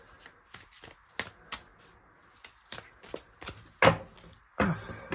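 A deck of cards is shuffled up close, giving a rapid run of soft riffling flicks that ends in two louder snaps as the cards are squared.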